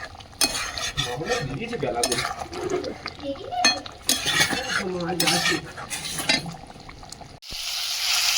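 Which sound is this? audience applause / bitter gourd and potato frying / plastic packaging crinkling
bitter gourd and potato frying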